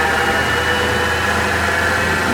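Chrysler 360 engine from a 1929 car, fitted with headers and a 625 AFB carburetor, held at a steady 1700 RPM: a loud, continuous mechanical drone with a constant hum and hiss, close up and alone.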